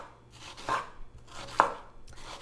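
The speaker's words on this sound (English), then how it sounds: "slice off a little from the top and the bottom, slice through the middle" A knife slices through an onion on a cutting board with a few distinct, close chopping knocks spaced about a second apart against quiet background hiss.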